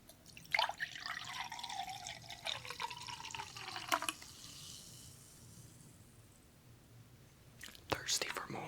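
Seltzer water being poured into a glass, soft close fizzing and trickling with a few small clinks, under breathy whispering, with a sharper clatter near the end.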